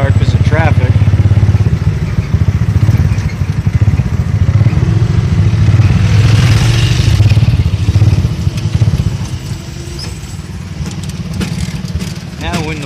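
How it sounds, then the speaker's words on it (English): Several motorbike engines idle and rev close by in busy Philippine traffic, a loud continuous mechanical drone that eases slightly toward the end. "And here's the rest of the motorbikes."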